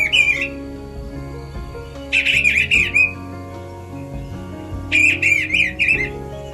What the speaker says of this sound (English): Eastern Bluebird.